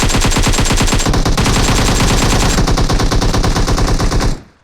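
Sustained automatic gunfire from the mobile battle royale game PUBG Mobile during a competitive custom room match, loud, dense rapid bursts with no gaps that cut off abruptly near the end.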